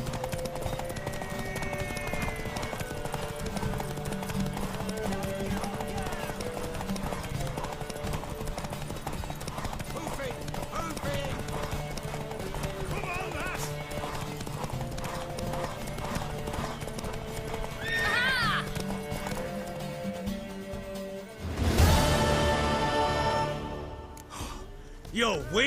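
Horse hooves clip-clop at a steady gait in The Witcher 3, with a brief whinny near the end and a loud burst of noise after a pause; game music and scattered voices run underneath.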